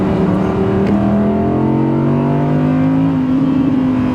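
An Audi R8 V10 Performance engine revs with a deep, rising drone, pitch climbing gradually as it accelerates, loud and close throughout.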